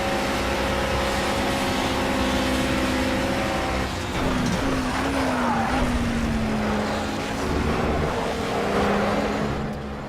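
A GT4 race car in the Project CARS racing game at Le Mans sweeps past, its engine a sustained loud drone whose pitch rises and then falls as it goes by, under continuous engine noise.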